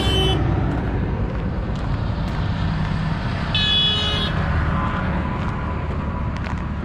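A car horn gives one sustained honk of under a second on a country road along the Camino Francés between Bercianos and Villarente, set against a steady, loud rumble of passing traffic.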